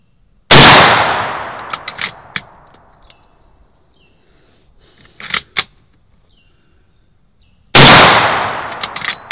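Two sharp, loud rifle shots from a lever-action Winchester Miroku, fired at a 25-yard range, ring out several seconds apart, with metallic clicks and clanks of the lever action between them.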